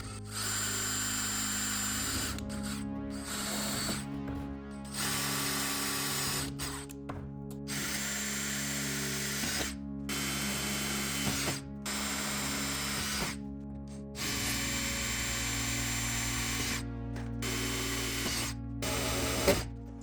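An electric drill match-drills holes in the lower boot cowl skin of a RANS S-21 aircraft, loud steady whine in repeated bursts broken by brief pauses.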